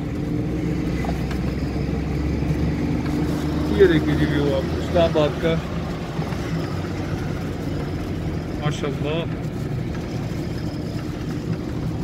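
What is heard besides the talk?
Suzuki Mehran car engine driving uphill in gear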